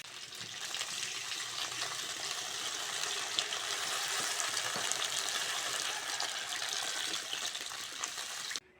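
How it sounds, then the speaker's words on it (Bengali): Water poured into a pan of fried rohu fish for a thin fish curry with potato and green banana, a soft steady sizzle and bubbling gush at low level, with no talk. "ভালো করে ভেজে নিয়েছি এবার জল দিয়ে দেবো"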